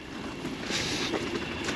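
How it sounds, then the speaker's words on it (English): A train on the Northampton & Lamport heritage railway rumbles past nearby as a steady broadband roar, with no talking. "Tommy, I think I hear a train."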